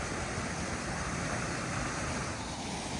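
Steady rushing water from the fountain at Swarovski Crystal Worlds beside The Giant in cold Austrian weather, a constant broadband wash at even loudness with no voices.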